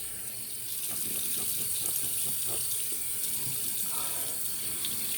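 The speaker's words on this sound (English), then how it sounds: "I'm going to rinse the face" Water runs steadily from a sink tap while a face is rinsed after shaving, with soft splashes and hand movements breaking through the continuous close stream.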